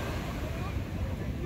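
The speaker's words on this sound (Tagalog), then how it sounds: "Grabe ang alon, yan no?" Broad rushing surf noise of ocean waves, steady and loud throughout, with wind buffeting the microphone.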